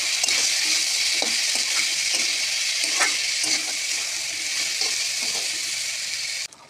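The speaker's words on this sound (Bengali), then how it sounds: "দিয়ে নাড়াচাড়া করে মিক্স করে নেবো মশলার সাথে।" Vegetables with cumin powder and salt sizzle steadily in a hot pan while a spatula scrapes and stirs in repeated strokes, close and continuous, then the frying cuts off near the end.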